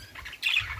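Birds in an aviary give a sharp, loud squawk that stands out over faint background bird chatter, in one brief burst.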